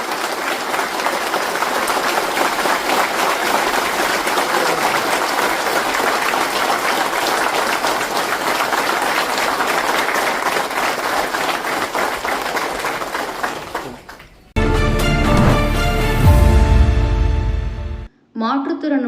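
At a district meeting, a large audience claps loudly and continuously for about fourteen seconds, then the applause fades out and a different, louder sound takes over before cutting to silence.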